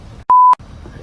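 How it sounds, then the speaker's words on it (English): A single steady electronic beep from a phone signalling an incoming call, loud and close, lasting about a quarter second and cutting cleanly in and out against quiet background noise. "And I'm getting a phone call."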